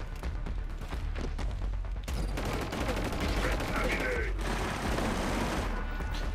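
Rapid gunfire in the first-person shooter Killzone Shadow Fall, sharp repeated shots and bursts layered over a thick battle din, loud and close throughout, with a brief tonal effect midway.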